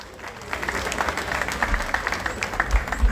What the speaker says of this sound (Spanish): Para quien pido un fuerte y caluroso aplauso